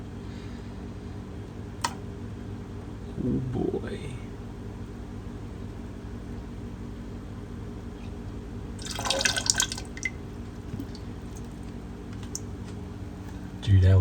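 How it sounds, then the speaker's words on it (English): Hot water is poured in during a transparent Joy-Con making project, with a short splashing rush in the middle and quieter trickles and drips around it. A person talks briefly. "The water's getting up there in temperature, so let's pour it in."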